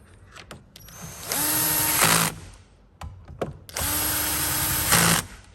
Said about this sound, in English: Just running a couple bolts in loosely.